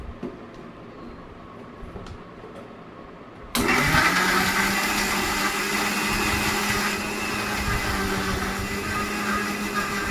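A mixer grinder blending moringa leaves and cucumber: quiet room tone, a few small clicks, then the motor starts abruptly into a loud, steady whirring roar that holds close and even to the end.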